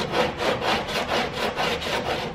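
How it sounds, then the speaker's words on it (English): Steady back-and-forth rasping of sandpaper wrapped on a wood block, close and loud, with about eight even strokes in a regular rhythm. "put a piece of sandpaper on a wood block and start sanding it."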